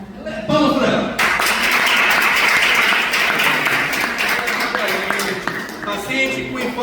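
Applause breaks out for a student in a lively classroom or lecture session, a dense burst of clapping starting abruptly and carrying on steadily, with voices mixed in underneath.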